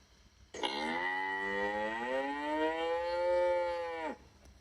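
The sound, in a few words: cow mooing alarm sound played from Classroom Screen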